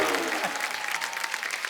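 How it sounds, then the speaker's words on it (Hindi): A studio audience at a comedy show applauds loudly in a dense, continuous wash of clapping that holds steady for its whole short length, with no talk over it. "एक बार नकली बच्चन फैमिली के लिए जोरदार तालियां।"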